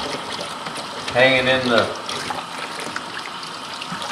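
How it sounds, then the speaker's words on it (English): Running water pours steadily into the nostril cavity of a boiled deer skull, washing out the septum area. It is a continuous broadband wash throughout, with a person talking briefly over it partway through. "Water down in the back of the nostril cavity here, trying to wash the parts out"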